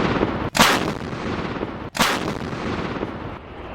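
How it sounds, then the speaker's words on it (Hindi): A truck-mounted gun system artillery piece of the Indian Army fires twice, each shot a sharp heavy blast with a brief rumbling tail, spaced about a second and a half apart, loud and without talking. "देखिए, यही है माउंटेड गन सिस्टम यानी MGS। ये तोप क्या कहर बरपा सकती है"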